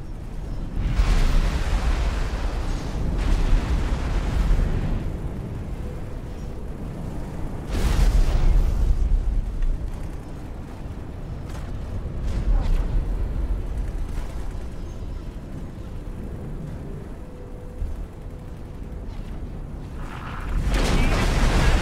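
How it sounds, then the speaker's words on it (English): Heavy, rumbling blasts of spaceships exploding in the space game X4 Foundations, deep booms swelling and fading several times over a continuous low roar, with occasional talk over them. "Explosion imminent."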